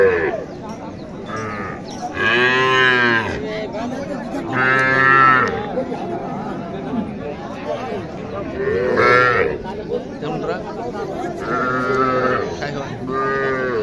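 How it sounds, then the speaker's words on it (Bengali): A Sahiwal bull calf and other cattle moo loudly in several long bellows at a cattle market in Mohadevpur, Naogaon, with bleating livestock and people talking in between. "এখানে একটি আছে শাহিওয়াল ষাঁড় বাছুর।"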